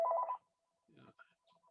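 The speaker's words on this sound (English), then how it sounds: "My phone is ringing" A telephone ringtone chirps briefly and faintly, a short tonal burst followed by softer electronic beeps, heard over a quiet online meeting with little else around it.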